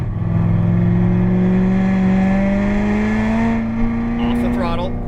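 A Corvette Z06 engine on the track at Las Vegas Motor Speedway rises steadily in pitch as the throttle is squeezed, a loud, sustained close-up drone building through the whole stretch, with a brief higher tone near the end.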